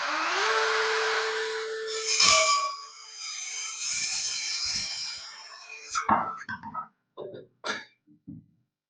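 Power saw cutting through damaged wood flooring along a straight guide, a loud steady whine running about six seconds before winding down, followed by a few short knocks and clatters.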